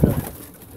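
A large, light-bodied pigeon, about three times the size of a regular pigeon, gives a short low coo at close range, then quiet.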